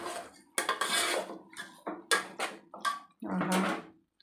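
Chicken biryani in a pot being mixed with a mint, ginger and garlic paste, giving repeated loud metal clanks and scrapes of a spoon against the pot in irregular bursts, close up, with a voice briefly heard between strokes.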